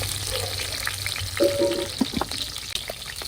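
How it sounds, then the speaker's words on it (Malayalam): Slit green chillies frying in hot coconut oil in a cooking pan, giving a steady close sizzle and crackle throughout with a few brief spits and pops. "ഒരു നാല് പച്ചമുളക് കീറിയതിട്ട് കൊടുക്കാം"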